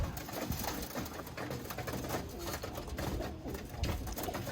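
Birmingham Roller pigeons coo softly and repeatedly in a loft, low murmuring calls layered over steady background noise with no voices.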